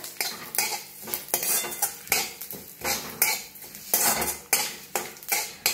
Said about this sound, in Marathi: आता शाई जिरा घेतले बघा, ते बी हलकं भाजायचं